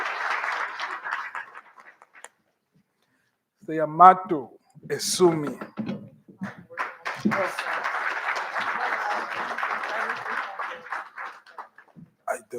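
Audience applause at an event day, bursts of clapping from a crowd at the start and a longer stretch later, with people talking in between.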